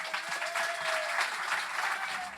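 An interview audience claps continuously for Jay and the Americans, a dense, moderately loud patter of many hands with a thin tone running underneath and no speech.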